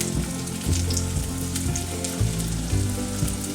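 Small chicken wing pieces fry in hot oil, a loud, steady sizzle close up with bubbling surges as pieces settle, no talking.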